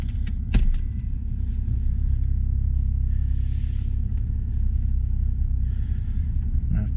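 Porsche 911 GTS (991.2 generation, 2018, Chalk paint) rolling slowly into a driveway, heard from inside the cabin as a steady low engine and road rumble with light interior clicks.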